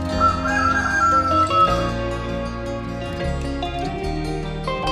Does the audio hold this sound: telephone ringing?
no